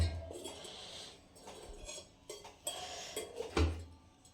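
A dish placed over a vessel of milk clinks in a quiet kitchen, a few soft, scattered metallic taps and knocks with one sharper clank near the end.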